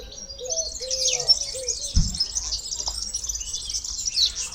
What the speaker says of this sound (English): All different kinds of birds.